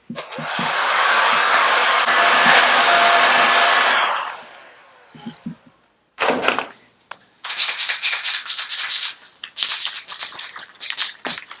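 A blow dryer drying a CB550 motorcycle panel, a loud continuous whooshing hum for about four seconds that then cuts off, followed by scattered knocks and clattering handling sounds.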